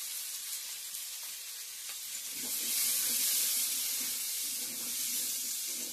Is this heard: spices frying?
yes